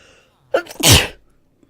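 A Minecraft villager sneezing in an iron farm build, one short nasal burst with a quick intake and a louder explosive release, close and alone.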